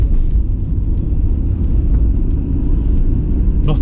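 A Nissan Skyline R32 GTR cruising on the road gives a steady, loud low rumble of engine and road noise from inside the cabin, continuous and unbroken throughout.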